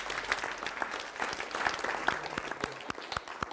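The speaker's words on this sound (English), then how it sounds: "How about a round of applause for them?" Audience applause at a Los Altos Parks and Recreation community event, a steady burst of many hands clapping that carries through with some crowd noise.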